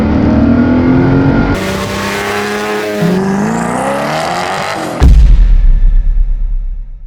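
A 2005 Koenigsegg CCR supercar engine running loudly up close, a sustained roar with rising and falling revs, then a sudden louder blast of low rumble near the end.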